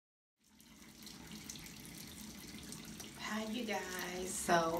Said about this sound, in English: since I had the water running, my tone was very low